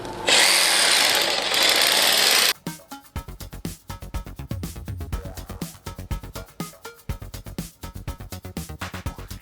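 A RECIPROTOOLS reciprocating saw fitted with a scrubbing attachment runs with a loud continuous buzz, then switches to rapid rhythmic scrubbing strokes against a stained surface. It stays close, with no speech.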